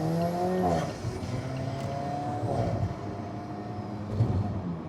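2015 Alfa Romeo 4C Launch Edition accelerating hard on a wet road, engine note climbing through revs with gear changes, loud and close in the cabin with no talk.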